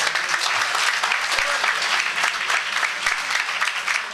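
An audience at a poetry gathering claps for a poet, giving a full, even round of applause that holds steady throughout.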